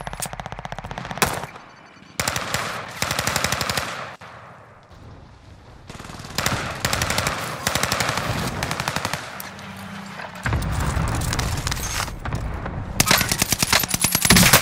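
Bursts of LMG machine gun fire in the Warzone video game, loud rapid automatic strings repeated across the clip with short pauses between volleys.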